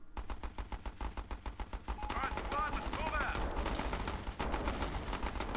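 A gun turret in the video game Battle Islands: Commanders fires rapid bursts of gunfire, a loud rhythmic volley that grows into a dense stream of shots with explosions and a voice talking over it.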